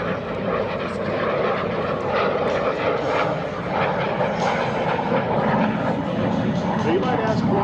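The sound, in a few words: Lockheed T-33 Shooting Star jet flying at airshow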